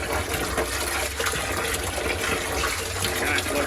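Water flows into an aquarium swirl filter with a steady, close rushing and splashing that stays even from start to finish.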